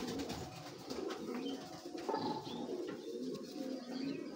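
A racing pigeon coos softly close by in a quiet room, its low throaty burbling repeating in short phrases over a faint background.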